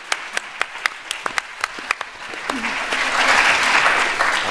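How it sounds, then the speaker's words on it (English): An audience applauds the Grumpies at a Vegfest event, scattered individual claps at first swelling into fuller, sustained clapping from a crowd close by. "can we have a round of applause for the Grumpies"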